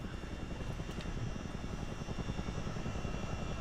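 Chinook helicopter taking off in Microsoft Flight Simulator 2024, a loud, steady rotor and turbine roar with dense low-frequency chopping that holds constant throughout.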